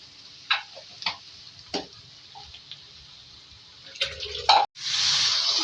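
A few sharp taps and drips, then a sudden loud sizzling hiss as water hits a hot frying pan of spiced potato and eggplant and keeps spitting.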